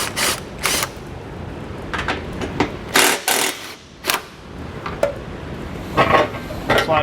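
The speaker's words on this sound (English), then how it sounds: "We're going to remove the two nuts with the same socket." A socket wrench ratchets two nuts off a bumper beam on a 2019 Chevrolet during a trailer hitch install, with irregular, close metallic clicks and clatters in short bursts.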